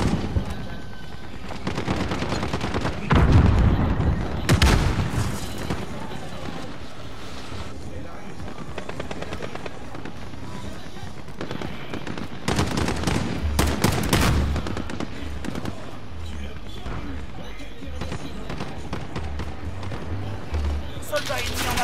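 Call of Duty Modern Warfare gunfire and machine guns crackle through a long battle scene, with bursts of automatic fire rising and falling over wind-like noise, and voices speaking at times.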